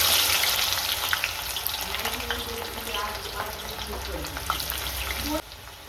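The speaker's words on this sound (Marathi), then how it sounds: "आता आपण हा कांदा या तेलामध्ये ॲड करून घेणार आहोत आणि ह्याला आपण छानपैकी बारीक गॅसवर चांगला तळून घेणार आहोत" Sliced onions fry in hot oil for chicken biryani, giving a steady, close sizzle with scattered crackles and a few light stirring scrapes, alone without voices, then dropping off abruptly near the end.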